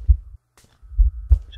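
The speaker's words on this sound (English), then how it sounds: "Beating heartbeat in my ear" A heartbeat sound effect in the Slender video game thumps in a steady, low, throbbing rhythm, several muffled beats close and loud with no talk.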